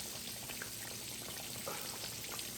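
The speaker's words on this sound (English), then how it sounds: "everybody has a different way of frying their pork chops" Pork chops fry in a pan, a steady close sizzle with scattered small pops and crackles running throughout.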